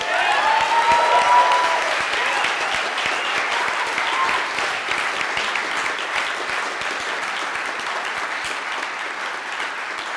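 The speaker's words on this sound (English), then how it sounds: "Let's give a round of applause for them." Sustained audience applause fills the room at a Kshama Sawant election victory party, a dense, loud wash of clapping from a large crowd that holds steady for the whole stretch with no speech over it.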